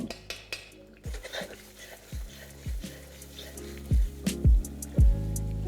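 A spoon scrapes and knocks against a pan as masala is stirred for a potato and pointed gourd curry, giving repeated close, clattering strokes with bright metallic taps between softer scraping.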